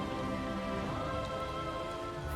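Rain falls in the video game Disney Dreamlight Valley as a soft, even patter under gentle sustained background music, steady throughout and fairly quiet.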